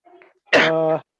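A man gives a single loud, close cough with a rough, voiced tail, preceded by a brief faint vocal sound in an otherwise quiet room.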